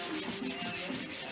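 Primed fibreglass is hand-sanded with 180 grit paper in steady back-and-forth rubbing strokes, a close, dry scratching rasp repeating in an even rhythm with no talk.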